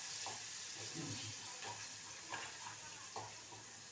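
Garlic sizzles in hot oil for tempering a chakwat (bathua) leafy vegetable dish, a soft steady frying hiss with occasional brief stirring scrapes, close and fairly quiet.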